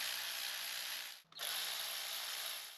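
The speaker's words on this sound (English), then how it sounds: "So first we'll snug them up, then we'll torque them down." A ratchet snugs the 10 mm lower intake manifold bolts on a 2005–2007 Ford Freestar in two close bursts of rapid clicking with a brief pause between them.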